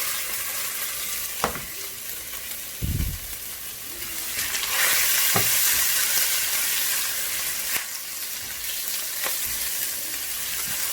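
Garlic, ginger, cumin, cloves and bay leaf fry in a pan for a bean masala, a continuous sizzling hiss with occasional spatula clicks and scrapes as the mixture is stirred.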